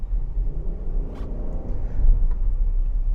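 A naturally aspirated Nissan Patrol Royale V8 SUV accelerates at full throttle, heard as a steady low engine rumble from inside the cabin that grows slightly louder partway through.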